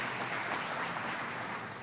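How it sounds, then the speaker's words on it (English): An audience at a New York Governor Kathy Hochul event marking the start of the I-81 project gives dense, even applause, a continuous wash of clapping heard alone. "You can give yourself a round of applause."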